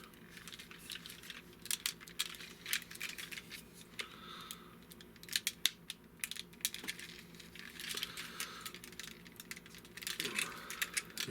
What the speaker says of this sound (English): you can take this front panel and plug it on